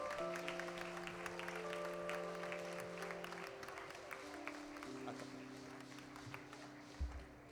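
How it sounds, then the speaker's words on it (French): Church congregation applauding during a joint service, a steady wash of clapping from many hands, moderately distant, with a sustained keyboard tone underneath. "Acclamons pour le Seigneur"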